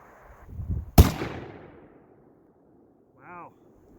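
Single sharp rifle shot from a Thompson Center Compass II Compact .223 bolt-action, loud and close with a decaying echo, followed by a brief spoken voice a couple of seconds later.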